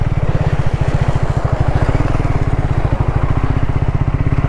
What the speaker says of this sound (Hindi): दोस्तों एक छोटी सी नन्ही सी प्यारी सी वाटर क्रॉसिंग आ गई है, प्यार से निकालते हैं बाइक को